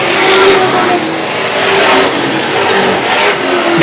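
Late model stock cars racing at Star Speedway, loud engines roaring and revving as the pack passes close, a dense continuous drone with rising and falling pitch, no talk.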